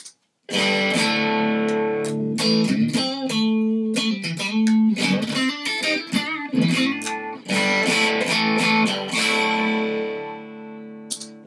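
Electric guitar played through a Juggy boost pedal switched on, giving a thicker boosted tone: a loud, continuous run of picked notes and strummed chords with sharp attacks, sustained throughout with no talking.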